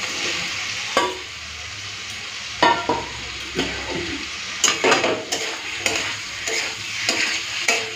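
Fried potato, kohlrabi and prawns being stir-fried in a spiced masala in a pan, with a continuous sizzle broken by repeated scraping and clacking strokes of a spatula, close and fairly loud.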